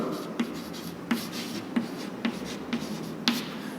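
Someone writes by hand with a pen or marker on a board, giving six or so short, evenly spaced scratchy strokes at close range over faint room noise.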